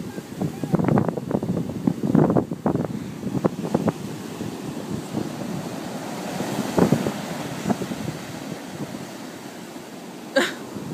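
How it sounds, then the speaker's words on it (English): Surf washing onto an Atlantic beach on the Jersey Shore, a steady broad wash with gusts of wind noise on the microphone, and brief voices and sounds from people close by now and then. "The Atlantic Ocean."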